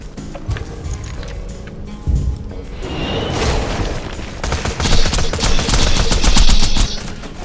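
A Bone Shredder submachine gun in Borderlands 2 fires loud, close bursts of four rounds. The bursts start sparse, then run together into sustained rattling volleys with booming impacts.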